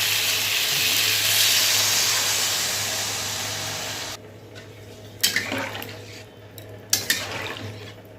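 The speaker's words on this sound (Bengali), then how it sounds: "চলো এবার জল দিয়ে দিই" Water poured into a pan of frying taro curry, a loud rushing hiss and sizzle for about four seconds that cuts off, followed by a quieter simmer and a few clinks of a utensil against the pot.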